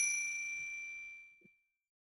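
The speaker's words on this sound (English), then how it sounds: "You all hear the sound of a bell being rung." A bell struck once in a tabletop game session, a clear ringing ding that slowly decays to silence over about a second and a half, with a soft tap near the end.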